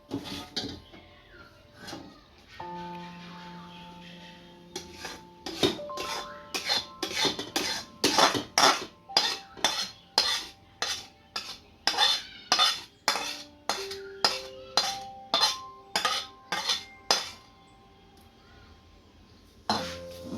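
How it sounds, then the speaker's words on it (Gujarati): Puffed rice is stirred into hot melted jaggery for murmura laddoo, a long run of rhythmic, sharp clattering scrapes of a spoon against the pan, close and fairly loud, with no talking. "આને હવે હલાવી નાખશું. બધા મમરા હાવ ભેળવી નાખશું ગોળમાં."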